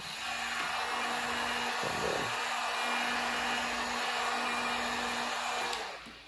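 A hot-air tool heats vinyl wrap while it is stretched into a corner. It gives a loud, steady blowing whir with a faint tonal hum and a few brief dips, then cuts off just before the end.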